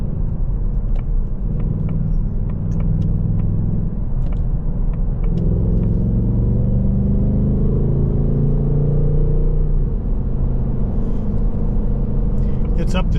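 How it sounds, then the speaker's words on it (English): A 2024 Ford Mustang GT Premium with a V8 engine cruising on a highway, heard from inside the cabin as a deep, steady engine rumble with road noise that gradually builds as it gets up to speed. "It's up to speed so easily with this V8."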